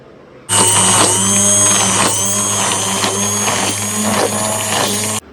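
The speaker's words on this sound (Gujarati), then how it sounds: "અને હવે થોડું બ્લેન્ડર મારી" A kitchen blender whirs steadily, loud and close, as it mixes mango pulp scraped from the stones for homemade mango ice cream. The motor switches on abruptly and holds an even drone until it cuts off.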